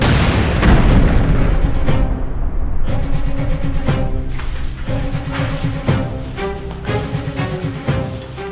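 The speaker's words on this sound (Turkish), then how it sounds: "Bomba bu!" Bomb explosion in a dramatic action scene, a heavy booming blast with rumbling debris followed by repeated loud bursts and crashes, close and dense throughout.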